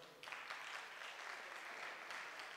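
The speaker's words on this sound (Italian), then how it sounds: "Facciamo un bel applauso." Audience applauding performers at a sports gala night, dense continuous clapping starting suddenly and holding steady throughout, fairly distant and even.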